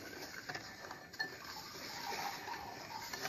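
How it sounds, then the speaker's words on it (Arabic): A spoon stirring yogurt and sugar in a bowl, faint scraping with a few light clinks of utensil against the dish, quiet and close with no talking. "هقلب بقى الزبادي مع السكر"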